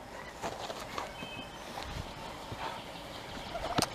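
Turkeys gobble in scattered bursts at a moderate distance over a faint outdoor background, with a few light steps and rustles in between.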